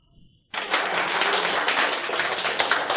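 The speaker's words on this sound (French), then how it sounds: "Applaudissements pour elle." Applause for the best employee award winner: a sudden burst of many hands clapping after a near-silent moment, then a dense, steady roar of clapping that stays loud to the end.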